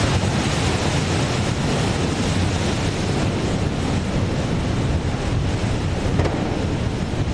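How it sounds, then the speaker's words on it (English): A loud, steady roar of rushing, spraying water from the water deluge system at NASA's Launch Pad 39B, broadband and continuous like a massive torrent, with wind-like rumble throughout. "This water deluge test at Launch Pad 39B"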